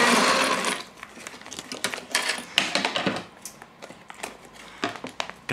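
A sewing machine test-stitches a straight seam, bursts of rapid mechanical clatter with short pauses between runs, close and fairly loud with no talking.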